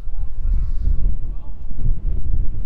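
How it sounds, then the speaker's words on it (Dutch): Gusty wind buffets the microphone outdoors at a Dutch amateur football club, V.V. Wemeldinge, making a continuous low rumble that rises and dips, with voices faintly in the background. "Staat een flink windje."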